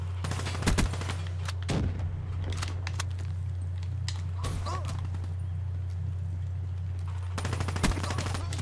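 Rapid shooter-match gunfire in a video game, including an M8 rifle without a foregrip: sharp bursts and single cracks scattered throughout, with some loud clusters, over a steady low in-game hum.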